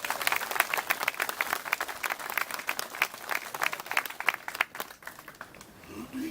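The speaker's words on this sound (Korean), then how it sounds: "뜨거운 박수 부탁드리겠습니다." Steady applause from a crowd honoring Korean War veterans at a memorial ceremony for the Battle of Hill 104, many hands clapping at once at moderate distance, tapering slightly toward the end.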